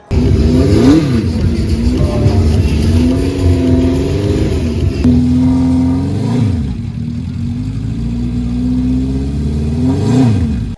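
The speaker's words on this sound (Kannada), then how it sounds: "ಹೋಂಡಾದು ಫೋರ್ ಅನ್ನೋಂಥ ಒಂದು ಫೋರ್ ಸಿಲಿಂಡರ್ ಇರುವಂಥ ಹಳೆಯ ಬೈಕ್ ಸೂಪರ್ ಸ್ಪೋರ್ಟ್ ಬೈಕ್ ಇದು" An old Honda Four inline four-cylinder super sport motorcycle revs loudly and steadily at India Bike Week 2023, its engine note rising and falling through repeated throttle blips with no voices over it.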